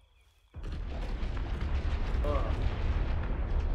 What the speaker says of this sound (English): The delay on this explosion.